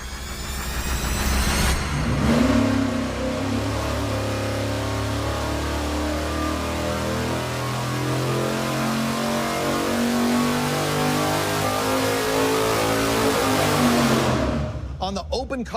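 A V8 engine runs on a dyno through an open carburetor with no air filter, starting up and then holding a loud, steady roar with a rising and falling pitch before it cuts off near the end.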